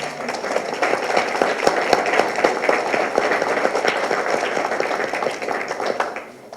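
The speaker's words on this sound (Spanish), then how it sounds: "demos un aplauso para la sede Acapulco" An audience at a closing ceremony gives steady applause, dense clapping sustained for several seconds at moderate loudness, without speech over it.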